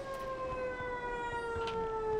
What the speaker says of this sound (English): Where's the siren coming from?